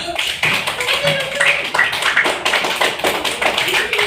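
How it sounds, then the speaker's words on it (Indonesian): Classroom applause follows a group drama performance about sharing. Many hands clap in a dense, continuous patter, mid-distance and moderately loud, with faint voices mixed underneath. "Iya, beri tepuk tangan dulu."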